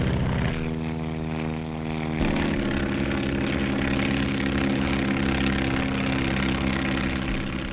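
A 1935 propeller skywriting airplane drones steadily overhead, a loud continuous engine roar with strong harmonic hum that shifts pitch slightly as it flies, no voices.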